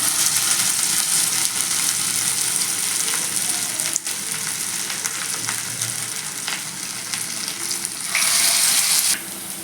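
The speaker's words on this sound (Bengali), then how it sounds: "এবার আমি এই কলবি শাকের মাখাটাকে আস্তে আস্তে হাতে প্রেস করে এইভাবে ছেড়ে দেবো" Water spinach and pea lentil fritters fry in hot oil, a loud, continuous close sizzle that swells briefly near the end, with no one speaking.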